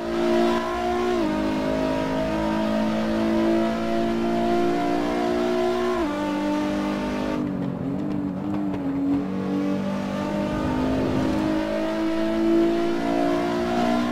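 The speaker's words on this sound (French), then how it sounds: "je vous ai laissé profiter du son de la voiture en passant à Cops" Super GT 500 race car in the Assetto Corsa racing game, engine screaming loudly at high revs, with a sharp drop on an upshift and a deeper note then climbing again, heard alone with no talk.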